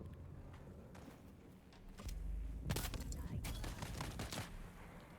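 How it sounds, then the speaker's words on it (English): A grenade is thrown and explodes in the video game Dune: Awakening, a sharp burst followed by a cluster of crackling blasts and thuds at moderate distance, with a voice briefly heard. "Throwing grenade!"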